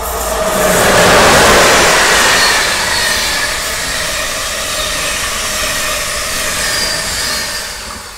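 A train passes through Dinnyés railway station, a loud broad rumble and rush that swells during the first seconds, then holds steady as the cars roll by close to the listener.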